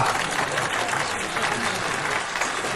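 An audience applauds to welcome a contest winner on stage in a Korean drama scene, a dense, even wash of clapping that holds steady and full from start to end with no talk over it.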